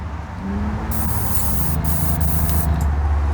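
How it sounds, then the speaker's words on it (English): An airbrush sprays thinned paint, a continuous close-up hiss that starts shortly after a quiet low hum and holds steady to the end. "I have it thinned down just a hair because this particular airbrush likes thin paint. Make sure it sprays out okay."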